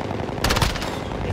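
Automatic gunfire in Warzone, a rapid burst of shots fired from an elevated position, loud and close for about a second before cutting out into a steady game background.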